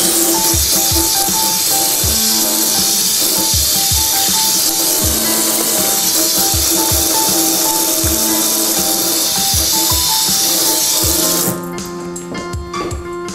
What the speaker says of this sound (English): after I give my hands a little wash